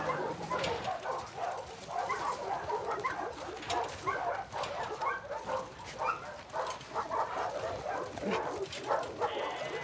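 A dog in The Last of Us Part II video game gives excited yips, whimpers and short barks in quick uneven bursts, close by and moderately loud, with some faint background noise.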